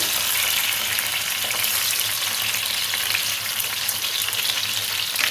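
Fish frying in hot oil, one piece at a time, for a Bengali tel koi: a loud, dense, steady crackling sizzle close at hand, unbroken throughout and without any talking.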